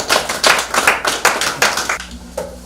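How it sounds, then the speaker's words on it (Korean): Rhythmic hand clapping from a seated audience at a healing camp lecture, welcoming a speaker to the front; loud, close claps for about two seconds that thin out and fade. "박수로 좀 부탁드리겠습니다"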